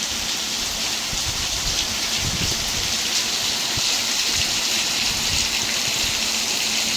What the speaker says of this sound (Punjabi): ਇੰਨਾ ਮੀਂਹ ਪਾਣੀ ਜਾ ਰਿਹਾ ਦੇਖੋ ਨਾਲੇ ਵਾਂਗੂ